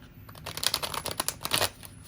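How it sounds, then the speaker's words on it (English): Tarot cards being shuffled by hand, a close quick run of crisp riffling and flicking bursts at an uneven rhythm, with no talking. "one more shuffle"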